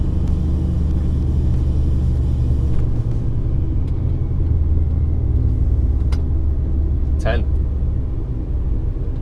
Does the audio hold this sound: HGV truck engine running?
yes